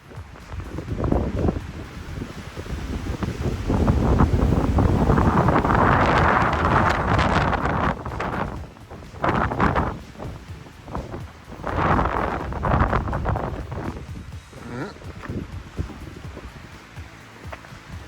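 Strong wind buffets the microphone near the summit of Tunnel Mountain in Banff, roaring in loud, sustained gusts that swell and ease over the span without speech.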